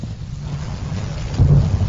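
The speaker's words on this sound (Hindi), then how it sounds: "बारिश हो रही है" Rain falls steadily in a storm, and a low rumble of thunder swells near the end of the short burst, with no voices.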